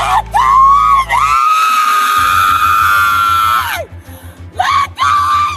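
A person screams loudly and continuously during a traffic stop, with long, strained, close-up shrieks that break off and start again near the end.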